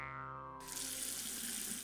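Tap water pours steadily from a faucet in a cartoon scene, a bright continuous splashing rush that starts abruptly after a soft tonal intro and fills the rest of the short clip, no voices.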